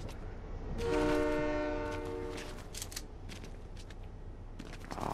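A train rolls past in a video game, its horn sounding in a long, loud blast early on before fading into rumbling background noise with scattered clicks and game effects.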